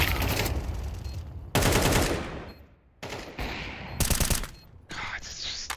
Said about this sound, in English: Oh, I'm in the middle of a firefight.